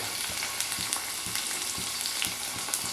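Tomatoes sautéing in sesame oil in a pan for tomato pickle give a steady close sizzle, with soft stirring scrapes and small pops throughout and no voices.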